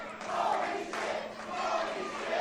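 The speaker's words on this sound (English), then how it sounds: "And you can hear the crowd here." Wrestling fans in an arena roar in approval after a high-flying corkscrew plancha, a loud, sustained crowd cheer that swells in waves, heard from a distance.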